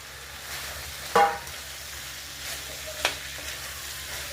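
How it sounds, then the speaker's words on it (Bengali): Boiled kidney beans tipped into sizzling tadka spices in a pan, a low continuous frying hiss with two sharp splashy hits as the beans land, near and fairly quiet, without talk. "এবার রাজমাটা দিয়ে দেব।"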